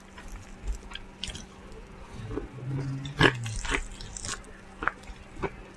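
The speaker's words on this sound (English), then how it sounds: "Crunchy, crunchy chicken." Close-up crunchy chewing of KFC fried chicken, with irregular crisp bites and wet mouth sounds coming in bursts, one louder crunch near the middle, no talking.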